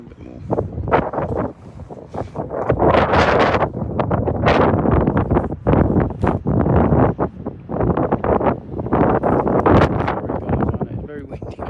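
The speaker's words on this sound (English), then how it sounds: "It's very windy." Loud, gusty wind buffets the microphone at Dover Port, roaring and crackling in uneven bursts throughout, with a voice speaking underneath.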